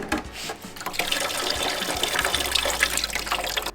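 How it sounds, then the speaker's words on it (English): Steady rushing of water pouring out of a low-point drain on a Roadtrek Pivot camper van's fresh water line, a continuous broadband gush that holds at an even level throughout with no voices. "We're going to drain this line, make sure that there's no fresh water coming out of it."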